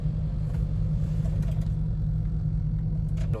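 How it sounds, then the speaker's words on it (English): An old Chevrolet Tahoe gives off a steady, heavy low rumble from inside the cabin, with a constant engine drone holding level throughout and no speech over it. "Bunch of noises coming out of my car right now. It's an old car"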